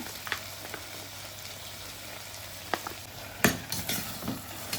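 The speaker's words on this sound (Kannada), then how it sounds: "ಎಲ್ಲ ಸಾಸಸ್ ಹಾಕ್ಬಿಟ್ಟು ಚೆನ್ನಾಗಿ ಮಿಕ್ಸ್ ಕೊಡಿ." Pasta is stirred with Schezwan and tomato sauces in a cooker pot, giving a steady soft sizzle broken by a few scraping clinks of a spoon, with a louder cluster of stirring knocks near the end.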